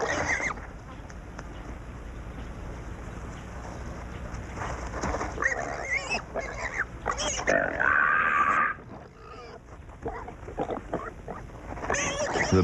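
In Kenya, warthog piglets squeal during a jackal attack, shrill bursts of varying loudness over rustling, and one loud cluster of cries stands out midway, with someone narrating throughout.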